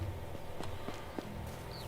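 Horse hooves clip-clop in the medieval farming game Medieval Dynasty: a handful of soft, evenly spaced hoof knocks over a steady ambient bed, fairly faint and with no voices.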